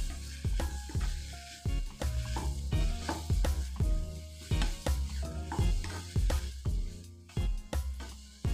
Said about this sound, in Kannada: ಈಗ 1 ಕಪ್ನಷ್ಟು ಕಟ್ ಮಾಡಿದ ಟೊಮೆಟೊ ಹಾಕ್ಕೊಂಡು ವೆಜಿಟೇಬಲ್ಸ್ ಜೊತೆ ಇದನ್ನು ಚೆನ್ನಾಗಿ ಮಿಕ್ಸ್ ಮಾಡ್ಕೋಬೇಕು.